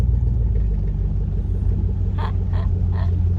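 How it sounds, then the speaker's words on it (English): A pickup truck driving fast on the way to cut firewood, a steady low engine rumble from inside the cab, with a few brief rattling knocks near the end. "My son Cass is driving the truck and he's going too fast"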